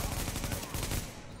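Sniper rifle gunfire in Tom Clancy's The Division, a dense burst of loud, rapid reports filling the short stretch before tapering off.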